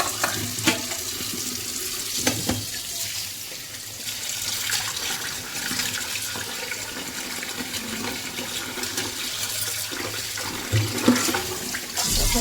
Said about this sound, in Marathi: एकदा धुवून घेतलं आता परत आपण दुसऱ्यांदा धुवून घ्यायचं